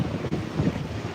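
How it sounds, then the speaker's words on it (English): Wind gusts buffet the microphone outdoors in New York City, a brief, low, rumbling rush of moderate loudness with no voices. "it's a little windy"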